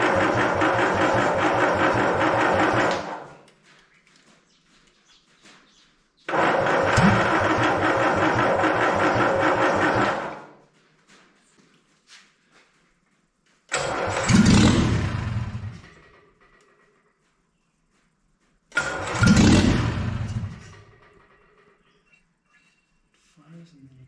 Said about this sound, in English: Finally, it was time to try and start the engine.